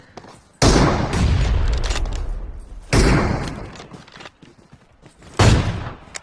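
Gunfire in a video game breaks out in three loud, sudden volleys, each a booming burst that fades into rumbling echo before the next strikes.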